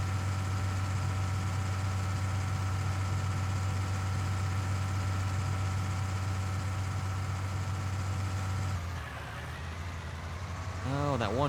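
Tractor engine pulling a planter in the video game Farming Simulator 20: a steady, droning low engine hum that shifts and drops near the end as someone talks over it.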